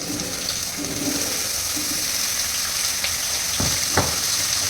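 Pumpkin fries in a pan with a continuous close sizzle and hiss, broken by a couple of brief sharp clicks or taps of utensils near the end.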